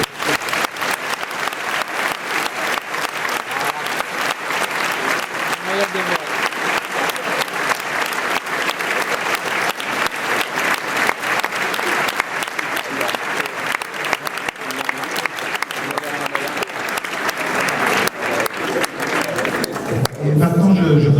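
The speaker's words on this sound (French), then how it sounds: "on l'applaudisse également" Sustained, loud applause from a large audience at a graduation ceremony for an engineering school class, steady clapping throughout with a brief swell of cheering near the end.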